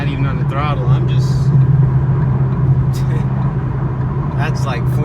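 Steady, loud engine drone from a 2014 Mustang GT with a tuned Coyote 5.0 V8, L&M intake, cams and an X-pipe exhaust, accelerating; a voice talks over the continuous rumble.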